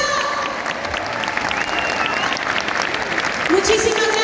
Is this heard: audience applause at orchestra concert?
yes